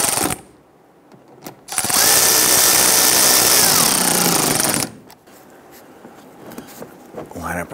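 A power drill drives a screw into the grille molding of a 2011-2019 Ford Explorer in one loud, close, sustained whir of about three seconds, between quieter handling noises.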